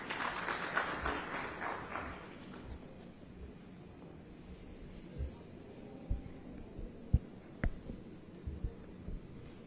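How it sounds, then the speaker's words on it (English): Conference audience applauding to welcome a government minister at an aerospace manufacturing event, a faint burst of clapping in the opening seconds that quickly dies away into quiet room noise. "Let's welcome with a round of applause."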